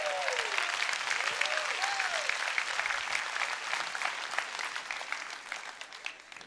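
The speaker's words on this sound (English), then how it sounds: "Clap for that" Audience applause at a seminar, a steady wash of many hands clapping from a crowd, with a speaker's voice briefly cutting through at the start.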